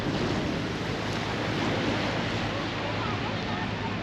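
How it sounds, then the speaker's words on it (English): A steady, dense rush of wind and surf at Aberdeen Beach on a warm day, with gusts buffeting the microphone throughout and no clear voices. "It's nice a warm day, but it's pretty windy here as well."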